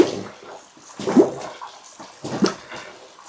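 Water splashes and sloshes in a bathtub during the final rinse of an antique Persian rug, in a few separate surges with quieter gaps between them.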